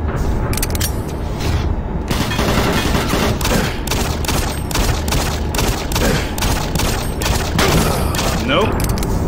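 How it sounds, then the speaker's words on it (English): Gunfire in the video game Doom 3, a rapid run of sharp shots over dense game noise and mechanical ambience, loud and continuous through the stretch. "Might need to shoot stuff at a distance, so I'm gonna have my pistol."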